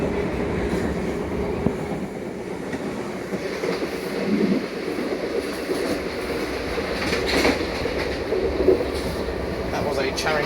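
A Southeastern Class 376 electric train rolls along the rails near New Cross, a continuous rumbling and clattering of wheels with occasional clicks, steady and fairly close.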